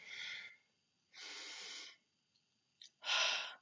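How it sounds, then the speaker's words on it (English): A person takes deep, audible breaths, three long airy exhales separated by short pauses, close and fairly loud with no speech. "So, deep breath."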